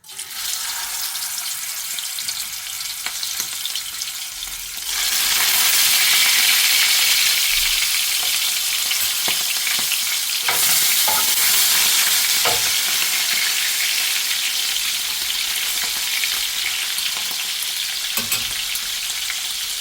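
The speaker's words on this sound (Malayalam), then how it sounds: "അതിലേക്ക് നമുക്ക് ഈ ചെമ്മീൻ അങ്ങോട്ട് എടുത്ത് വെച്ച് കൊടുക്കാം" Large prawns grilling in a hot pan: a loud, steady sizzle that jumps up suddenly after a few seconds of quieter hiss and keeps crackling throughout.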